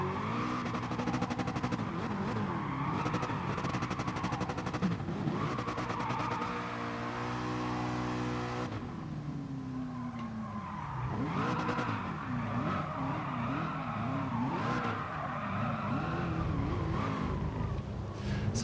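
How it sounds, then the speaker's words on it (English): A drift car in Gran Turismo Sport, engine revs climbing and falling while tires squeal through long slides, loud and continuous with rising and wavering pitch sweeps. "I like it when the car just climbs in the RPM when you're drifting"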